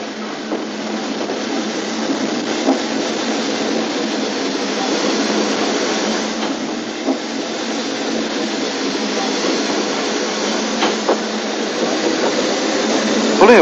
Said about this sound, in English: This is number 6 Douglas, built by Andrew Barclay in 1918, running in and drawing to a halt amongst the rhododendron bushes